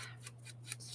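Scissors snipping paper for a Halloween glue book, several quick close cuts in a row over a steady low electrical hum, with no talking.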